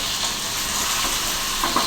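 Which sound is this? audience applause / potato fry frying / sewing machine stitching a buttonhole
potato fry frying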